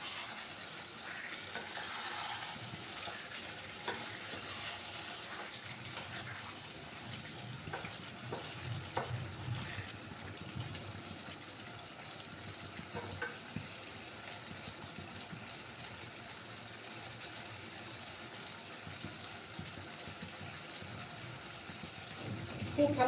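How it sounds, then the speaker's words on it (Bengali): Chicken for a Bengali chicken kosha fries in a pan and is stirred now and then, giving a quiet, steady sizzle with soft scraping and stirring sounds throughout. "আমি কিছুক্ষণ এটাকে নাড়াচাড়া করব"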